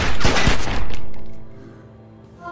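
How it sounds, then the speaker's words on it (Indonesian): Gunfire in a film as a security chief shoots at a vampire: a loud burst of shots at the start that quickly fades into a lingering ringing decay, with no talk. "Parahnya, tidak satupun peluru Ken mengenai sang vampir"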